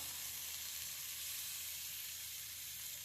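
Paneer pieces fry in a pan, turned to brown on all four sides, giving a soft, steady, even sizzle that stays constant throughout, with no voices.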